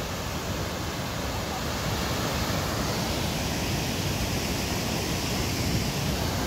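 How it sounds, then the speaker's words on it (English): A waterfall near Mendenhall Glacier in Juneau, Alaska, gives off a constant, dense rushing roar, even and unbroken from start to finish. "this particular viewpoint of a waterfall"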